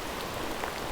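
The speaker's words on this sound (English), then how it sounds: "In the pouring down rain." Heavy rain pours steadily at a creek during a smallmouth bass fishing outing, a dense, even hiss of drops that fills the short moment with no voices.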